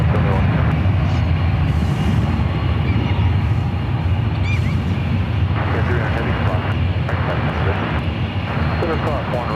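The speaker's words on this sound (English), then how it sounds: "It's a 6-year-old 787-9 Dreamliner." Boeing 787-9 Dreamliner, six years old, at San Francisco airport, a loud continuous jet engine roar close by and steady throughout, with a voice talking over it.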